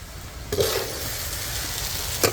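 Ground green chili sizzles and fries in a hot pan, a close, steady crackling hiss with two brief bursts as it is stirred and turned.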